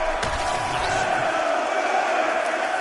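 Arena crowd cheering in UFC 6 between rounds of a fight: a steady, dense roar of many voices, loud and sustained throughout, with a few brief sharp thumps early on.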